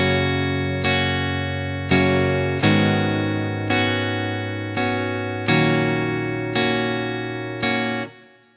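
An unprocessed electric guitar strums a series of chords, about nine strikes in a slow steady rhythm, each ringing and decaying before the next.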